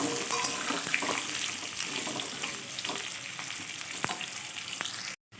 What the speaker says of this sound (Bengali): আমি কেটে রাখা আলুটা আলুটাকে তেলের মধ্যে খুব ভালো করে ভেজে নেব